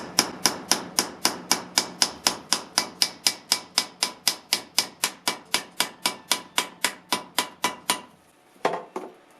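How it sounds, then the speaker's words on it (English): Steady metallic hammer blows driving a gear out of a lathe during a refurbishment, about thirty evenly spaced sharp strikes in a row, close and loud, then a pause and a few scattered clanks. "Looks like I'll be able to just hammer it out till I can get the first gear out."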